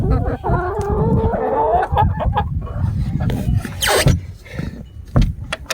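Hens clucking and squawking inside a coop during a snowy blizzard, loud close calls and squeals in quick irregular bursts, mixed with a person talking to them and some rustling.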